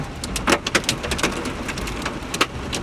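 Hailstones strike a car's roof, side mirrors and windows during a drive through flooded streets in Islamabad, loud irregular sharp cracks and thumps over a constant rush of rain.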